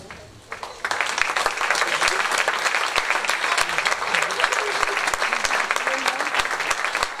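Audience applause at a summer concert, a dense sustained burst of clapping from a crowd that starts abruptly and continues steadily throughout.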